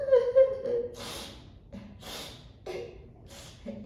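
A storyteller's voice imitates a bear cub sniffling: three short, breathy, snorting sniffs spaced about a second apart, close to the microphone, with faint voiced tones between them.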